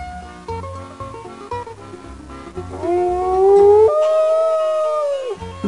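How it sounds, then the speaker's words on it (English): Several wolves howl in long, rising and falling cries that overlap, loud and close, with steady low background music beneath them and no talking. "Wolves howl to keep in touch with other wolves in their pack, to show excitement before a hunt, or to find a mate."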